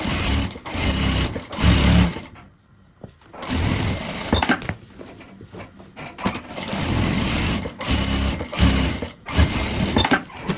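A sewing machine stitches a lining into a zippered pouch with a visor, its motor whirring in bursts of rapid stitching broken by short pauses.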